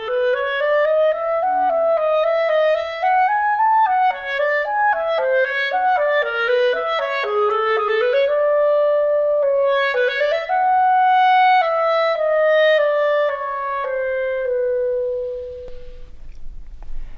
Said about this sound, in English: The clarinet is known for its warm, rich tone color